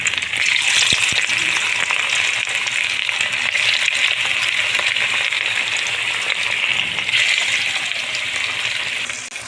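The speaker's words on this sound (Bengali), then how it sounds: "মাছটা আমার ভাজা হয়ে গিয়েছে" Bhetki fish pieces rubbed with turmeric, salt and chili powder sizzle steadily in hot oil, a loud continuous crackling hiss with no voices.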